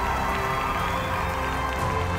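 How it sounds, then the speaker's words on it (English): Crowd cheering at the Land O'Lakes Farm Bowl, a dense, steady roar of many voices filling a large room without pause. "Yeah, of course they're cheering."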